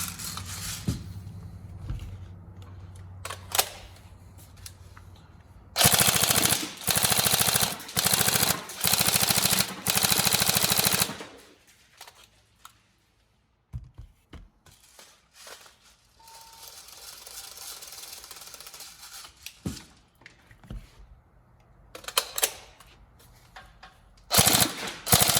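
An upgraded Tokyo Marui 416 Devgru NGRS airsoft electric gun fires in sharp, rapid bursts: several short volleys, then one long sustained stream lasting around five seconds, followed by scattered clicks and more short bursts, loud and close with no talking.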